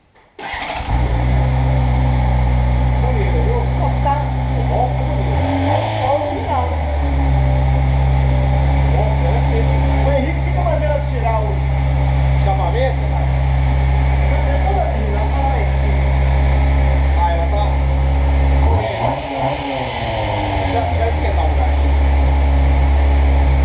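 A Honda Hornet motorcycle engine starting and idling close by, a loud steady rumble with two rising revs partway through, lasting over twenty seconds.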